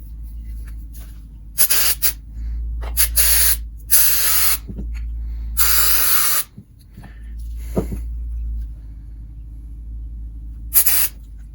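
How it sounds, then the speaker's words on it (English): Carb cleaner sprays in short and longer hissing bursts into the carburetor of a 1989 40 hp Mariner outboard motor, close and loud, separated by quiet gaps, with a low hum underneath. "So I just gotta hose this out a little bit with carb cleaner."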